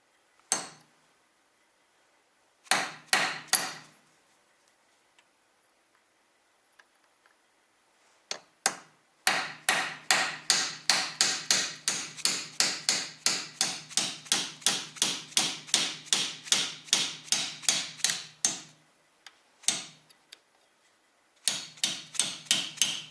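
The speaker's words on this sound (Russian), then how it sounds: "Берем молоток и вот так вот вбиваем направляющую." Sharp metal hammer strikes driving a seized brake pad guide pin on a Porsche Cayenne, first a few scattered blows, then a long rapid run of evenly spaced taps, pausing and resuming near the end.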